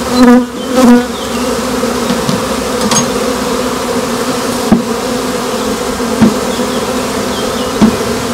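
A dense, steady hum of honeybees buzzing close by at a hive while frames are lifted out, with occasional sharp wooden knocks and clicks from the frames.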